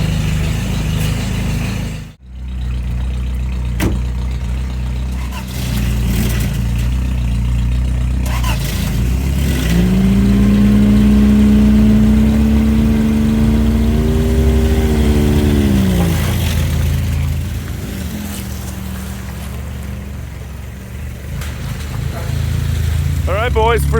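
Toyota Tercel 4WD wagon with a swapped 4A-C engine, still on choke, on its first test drive: a close, steady engine drone whose pitch climbs and then settles as it pulls, with people talking inside the car.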